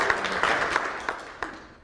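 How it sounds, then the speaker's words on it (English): Audience clapping hands, a short burst of applause that thins out into a few scattered, separate claps before fading. "If you've had that experience, clap your hands."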